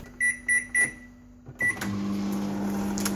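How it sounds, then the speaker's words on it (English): Three quick keypad beeps and a fourth chime, then a microwave oven starts humming steadily with a low, even drone. "Put that back in the microwave for 40 seconds."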